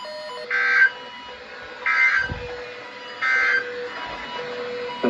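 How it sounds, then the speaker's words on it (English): A National Weather Service weather radio warning alarm tone, heard during a required weekly test broadcast from Youngstown, Ohio: three steady buzzing tone bursts about a second long, separated by short gaps over a faint hum. "This ends the test of the National Weather Service weather radio warning alarm."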